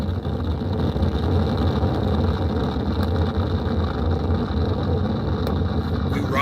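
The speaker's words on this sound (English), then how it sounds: "Boosters in ignition. And liftoff of Artemis 1." The Artemis 1 rocket lifts off on its solid rocket boosters, a continuous, dense, loud roar with deep rumble heard from a distance, steady throughout without voices.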